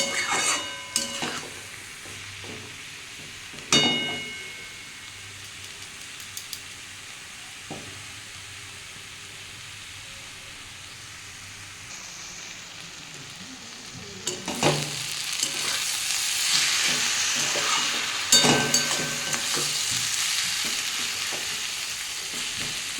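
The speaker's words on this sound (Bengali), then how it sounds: "এটা একটু ভালো করে ভেজে নিতে হবে একদম নরম হয়ে গেছে" Shredded cabbage fries in a pan with a steady sizzle, broken by sharp scrapes and knocks of stirring, the frying growing louder and busier toward the end with no one talking.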